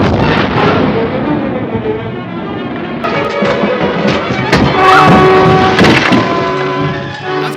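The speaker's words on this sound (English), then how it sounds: "the kids' day gets abruptly disrupted by a devastating bombing raid" A bombing raid in a 1956 film, with a dense, loud barrage of booming explosions and rumbling, and a faint voice woven into the din.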